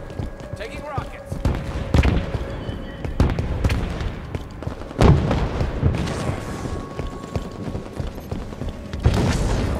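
Rockets landing in a shooter game: several loud booming impacts at irregular intervals, with mechanical clanks and rattles between them and faint battle noise underneath.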